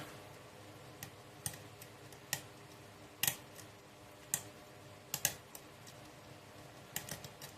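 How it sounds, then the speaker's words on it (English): A hook pick working the pins of a lock, producing sparse faint ticks and sharper clicks at irregular intervals, quiet and close with no talking. "A lot of clicking out of the back, out of 6 there."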